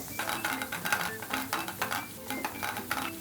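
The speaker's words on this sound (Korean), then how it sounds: "고추장도 역시 된장이랑 마찬가지로 기름에 튀겨주는 거예요." Gochujang fried in oil in a pan over lowered heat, with a spatula stirring in rhythmic scraping strokes over a steady low sizzle, close and moderately quiet, no talking.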